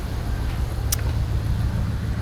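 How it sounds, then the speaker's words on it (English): A truck engine needing an intake manifold gasket idles with a low, loping rumble whose rhythm wavers, plus a brief high click partway through. "Do you guys hear the change in tempo of the engine?"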